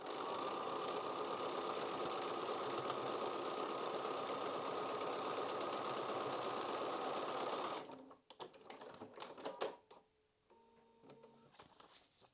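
Sewing machine stitching fabric while piecing a quilt block, a steady fast rhythmic whir running for several seconds close by, then stopping and followed by faint handling sounds.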